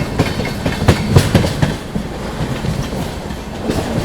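Tamil Nadu Superfast Express, train 12621, running through Gudur Junction with a steady rumble and rattle of wheels over rail joints, close and continuous, with louder clunks near the start.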